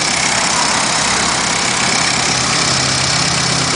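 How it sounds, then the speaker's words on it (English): A water-powered van's engine runs steadily at idle, a loud, even, continuous hum and rumble heard up close without any talking. "It might also be worth noting that the engine is a lot quieter now."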